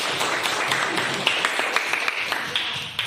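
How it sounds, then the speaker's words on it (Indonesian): A class applauds group 3 after its presentation in a school lesson: scattered, uneven hand claps of moderate loudness over a steady roomful of noise, with faint voices underneath. "Tepuk tangan dulu untuk kelompok 3."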